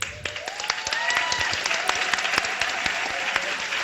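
Audience at a panel on Black women in the Black radical tradition applauds the Black Lives Matter movement, steady clapping from a crowd with sharp individual claps standing out and some voices in the room.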